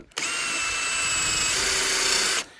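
A high-pitched cordless drill sanding a meteorite whines steadily for about two seconds, starting abruptly, shifting pitch slightly midway, then stopping.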